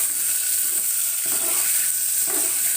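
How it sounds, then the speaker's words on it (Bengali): Diced potatoes being stirred in a pan just after water is added, part of a vegetarian cauliflower, potato, pea and soy chunk curry; a steady soft sizzle runs throughout, with a couple of faint scraping stirs and no voices. "জলটা দেওয়ার পর নেড়ে নেওয়া হচ্ছে"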